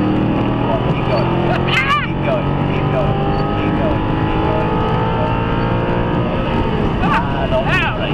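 A supercar's engine drones loudly and continuously on a track driving experience, holding a steady rumbling pitch with rising sweeps as it accelerates, while an instructor talks over it.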